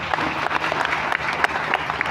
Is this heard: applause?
yes